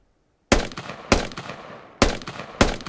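Four loud, sharp rifle shots from the video game Squad, fired from the prone position at long range, spaced roughly half a second apart, each with a short echoing tail, close and with no talk.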